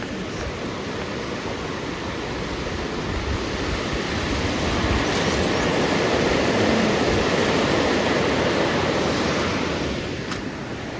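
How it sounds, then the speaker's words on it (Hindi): A river flows near a village, a steady, loud broadband rush of water that holds at the same level throughout, with no voices. "नदी।"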